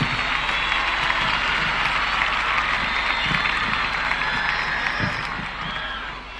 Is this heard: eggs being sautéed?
no